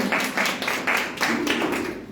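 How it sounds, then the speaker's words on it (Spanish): A church congregation breaks into rhythmic applause, a dense, fairly close patter of many hands clapping in pulsing bursts, with no talk over it. "Yo sé que ya no vamos a anunciar, pero aplaudan, gloria a Dios."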